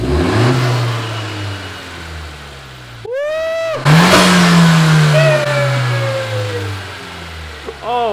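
A 2020 Honda Civic Si fitted with a PRL Cobra cold air intake revs repeatedly outdoors, with sweeping rises and falls, loud intake roar and close engine sound.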